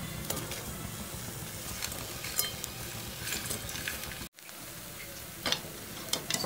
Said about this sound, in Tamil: பால் கொதிக்க ஆரம்பிச்சிருச்சு, இப்போ ப்ரெட் பீசஸ் போடலாம்.